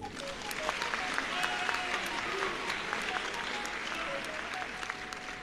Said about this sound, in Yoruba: Ẹ tiẹ̀ bá mi pàtẹ́wọ́ fọ́ba òkè.